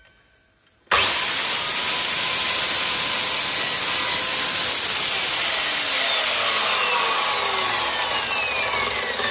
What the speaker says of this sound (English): Power tools, mind your ears.